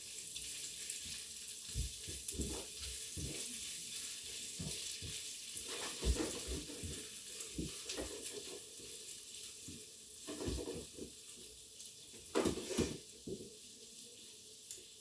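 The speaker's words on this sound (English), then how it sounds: "Give it a bit of a stir." Crushed, diced garlic sizzles in a pan for adobo while being stirred, soft frying hiss under intermittent scraping and clattering bursts of the utensil, close and fairly quiet.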